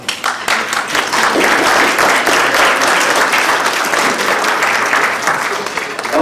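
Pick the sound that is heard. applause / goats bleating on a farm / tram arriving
applause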